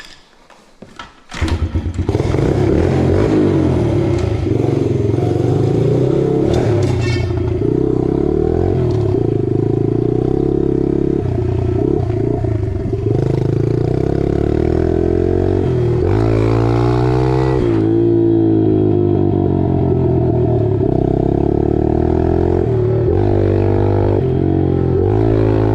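A 2026 Yamaha 110 motorcycle starts with a clatter and then runs loud and close for a long stretch, its engine pitch climbing and dropping as the rider shifts up through the gears.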